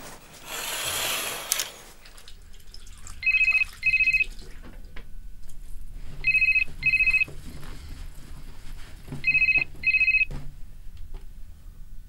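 A mobile phone ring repeats three times in short double bursts, each pair spaced a few seconds apart, over a quiet room after an opening rustle.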